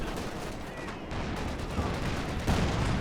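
A .50 cal machine gun keeps firing in a Company of Heroes 2 battle, a dense rattle of bursts mixed with other gunfire and explosions. It stays loud and busy throughout, with louder bursts near the end.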